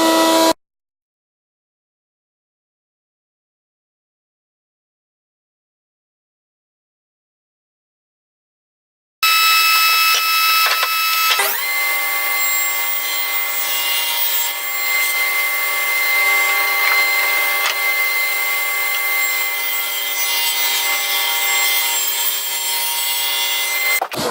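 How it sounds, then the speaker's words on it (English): Power router cutting through pine, a steady loud whining buzz with a rough woody grind that runs continuously for about fifteen seconds after a long silent gap, no talking. "Now to the router."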